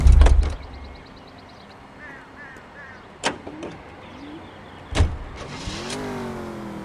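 A car being driven in the video game L.A. Noire, with a loud engine burst at the start, then a low steady hum broken by two sharp door-like knocks and a rising engine whine near the end.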